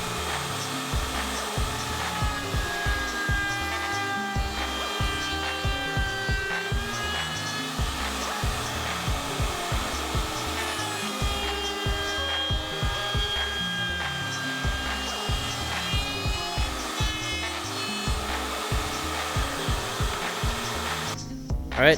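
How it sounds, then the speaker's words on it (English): A router rounds over the inner edge of a wooden cutting board after Forstner bit work, a steady loud whining roar running continuously alone, with a brief change at the very end. "I'm just going to take that over to the router now and round it over just like the outsides."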